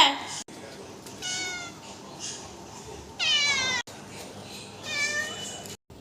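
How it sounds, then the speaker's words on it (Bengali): A cat meows several times, drawn-out and plaintive, one call loud and close, with a person speaking around the cries. "এ দেখ এবার ম্যাও করবে, কর কর ম্যাও কর"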